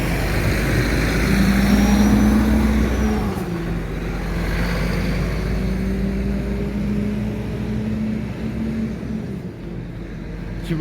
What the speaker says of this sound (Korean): 지금 옆에 또 트럭이 한 대 지나갔는데